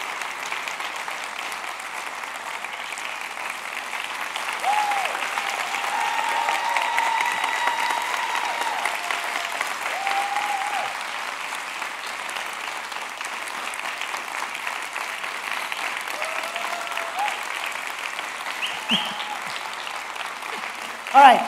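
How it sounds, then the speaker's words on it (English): An audience gives a long round of applause after a talk, steady clapping from a crowd that swells slightly in the middle and fades near the end. "Can I have a round of applause for everyone?"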